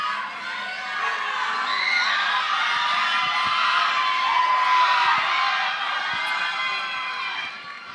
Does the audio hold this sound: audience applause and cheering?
yes